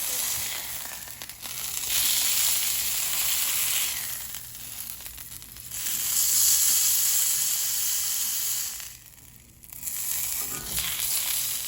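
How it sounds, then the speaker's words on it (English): Pork frying in a 12-inch cast iron pan with vegetable oil, a steady loud hiss that swells and dips, with faint scraping now and then. "So I have a 12-inch cast iron heating up just with like some vegetable oil."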